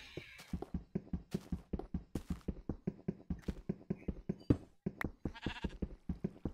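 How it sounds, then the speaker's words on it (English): Steady rapid tapping and knocking from breaking blocks in Minecraft repeats throughout, with a short sheep bleat rising above it near the end. "I hear sheep too."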